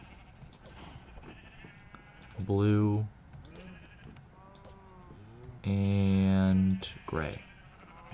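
Sheep in Minecraft bleat twice, loud and close, with a long drawn-out bleat following a shorter one, while someone talks between them.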